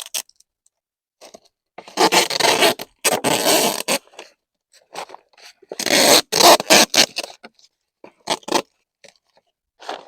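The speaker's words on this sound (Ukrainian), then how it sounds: "прив'язую все скотчем" Bursts of adhesive tape being pulled and unwound from a roll to tie down a bottle in a garden bed, sharp rasping strips separated by short pauses, close and fairly loud, with no talking.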